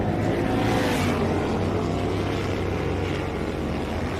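Superbike and bagger motorcycles race at Gingerman Raceway during a 2025 Bagger Racing League round, producing a loud, continuous engine roar that holds steady for about four seconds with no voices.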